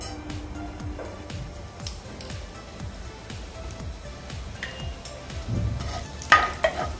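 Hot oil sizzles steadily as cumin seeds fry, while a utensil scrapes and taps the pan in a loose rhythm, with a brief louder crackle near the end.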